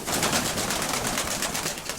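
Pigeons, including red birds, cooing close by in a loft, soft throaty coos over a steady, busy background hiss.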